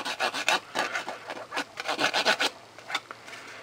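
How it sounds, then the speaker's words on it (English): A fingertip rubs over the ridged surface of a 3D printed drone back cover, giving a quick series of short, close, raspy scratches with no voices. "You can hear when I run my finger over it."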